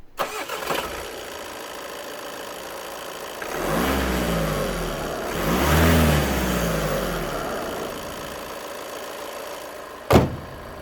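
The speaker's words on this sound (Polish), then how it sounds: "Sam silnik pracuje dość głośno i co gorsza jest bardzo mocno słyszalny w kabinie, a w szczególności świst turbiny." A Volkswagen Transporter 6.1 van with a 150 hp 2.0 TDI diesel and six-speed manual, started and revved twice, the rising engine note carrying a clear turbo whistle, followed by a short thump at the end.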